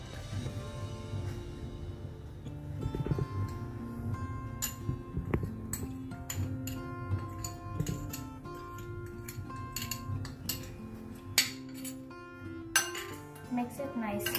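A spoon clinks against a bowl while peanut chaat is mixed, bright irregular taps and scrapes, a few louder knocks toward the end, close and fairly quiet.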